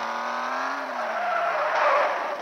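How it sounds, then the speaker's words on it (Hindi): Tires screech in a car video game as cars skid and crash, a sustained, loud squeal with a falling pitch and engine noise, no talk over it. "चलिए इसमें टक्कर मारते हैं, देखते हैं क्या होता है।"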